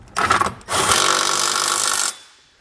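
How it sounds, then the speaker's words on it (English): A power tool with a 17 mm socket snugging the bottom bolts of a Curt trailer hitch on a 2022 Kia Telluride: a short burst, then a steady whirring run of about a second and a half, close and loud. "We're gonna start with the bottom bolts using a 17 millimeter socket."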